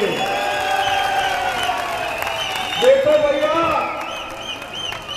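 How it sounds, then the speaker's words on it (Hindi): An election rally crowd in Himachal claps for the assembly candidate Sudhir Sharma, with sustained, dense applause running throughout while someone speaks loudly over it. "जोर से ताली बजाओ सुधीर जी के लिए"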